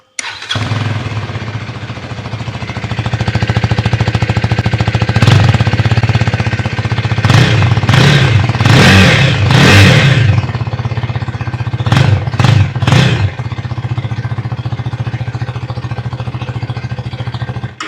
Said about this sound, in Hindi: चलिए इस बाइक का अब एग्जॉस्ट सुन लेते हैं